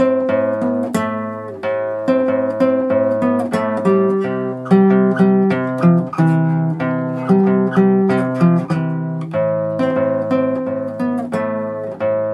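Guitar plays the combined intro as a steady flow of picked notes over ringing lower tones. The picking is even and moderate in pace, with a close, clean tone and no talking.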